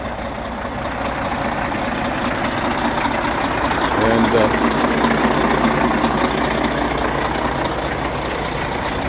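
A 2008 Freightliner semi truck with a CAT diesel engine, just boost-started after sitting for a few weeks, idles in a loud, steady, close rumble that swells slightly midway, with a brief spoken word over it.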